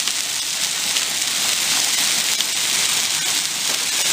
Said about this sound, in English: look, it's hailing. They're the size of mothballs.